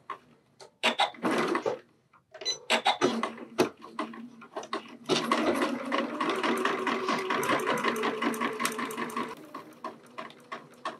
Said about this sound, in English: I like to stitch with my interfacing side up